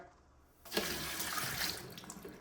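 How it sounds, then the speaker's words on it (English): Dirty wash water from a car wheel cleanup rushes down a drain, starting suddenly as a steady broad splashing gush that carries on close by without any talking. "I don't know why people like to see this stuff go down the drain, so here you go."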